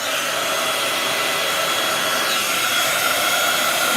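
A craft heat tool heats embossing powder on a stamp, producing a steady loud blowing whoosh like a hair dryer, constant and close for the whole stretch with no talking.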